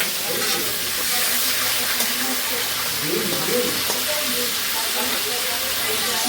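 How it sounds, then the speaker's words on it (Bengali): Fish head frying in hot oil, a steady broadband sizzle and hiss running throughout with faint clatter of stirring, close and fairly loud. "এই যে মাছের মাথাটা এখন ভালো করে ভেজে নেব।"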